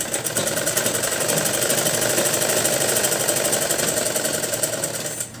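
A sewing machine stitches the side seam of a Patiala salwar, a steady rapid mechanical whir running continuously and loud close up, easing slightly toward the end, with no talking.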